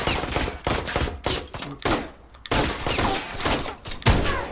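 Gunfire from the action game Ride to Hell: Retribution, a dense series of loud, close shots in uneven bursts with short gaps in between.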